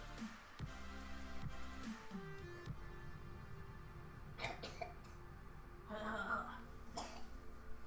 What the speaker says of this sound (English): Cough, cough, hack, cough, cough